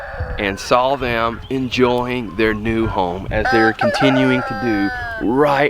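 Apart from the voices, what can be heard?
roosters crowing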